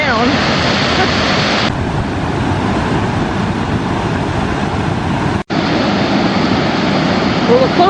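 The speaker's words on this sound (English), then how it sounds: "we should really see some tremendous falls today because we had so much rain last night. Well, here's the falls." Chittenango Falls pouring hard after a night of heavy rain, a steady, loud, broadband roar of rushing water that fills the whole clip, with wind buffeting the microphone and a brief dropout near the end.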